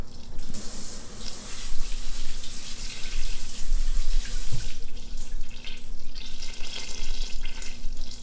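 Kitchen tap water runs steadily as habanero peppers are rinsed beneath it, a close, continuous splashing hiss with small shifts as the peppers move under the stream.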